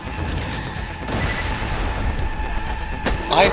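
Rapid gunfire in Borderlands 2 during co-op play, a dense continuous stream of shots with a rough, steady roar, ending in a brief brighter burst near the end.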